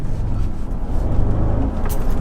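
Mercedes SL55 AMG engine running, a continuous deep low rumble at steady volume with slight surges, heard close with no talking over it.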